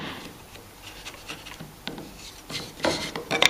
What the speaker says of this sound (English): We can use the edge of the chisel to clean that out if we need to.